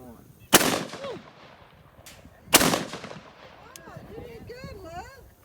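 A 16 gauge shotgun fires two loud, sharp blasts about two seconds apart, each trailing off into echo, with voices talking between and after the shots.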